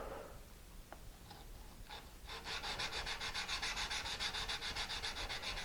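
Rapid rhythmic rasping strokes of a bedan turning tool rubbed back and forth on a DMT diamond plate, starting with a few light scrapes then building to a steady, close scrubbing.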